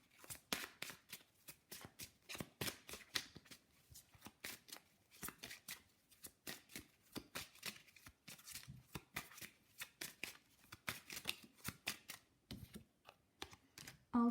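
Witch's Wisdom Oracle cards are shuffled by hand in a steady, fast run of crisp riffling flicks, close and fairly quiet, with short pauses between bursts and no talking.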